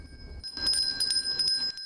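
A Salvation Army hand bell rings repeatedly in a steady, bright holiday-season jingle, moderately loud, with faint background noise and no talking.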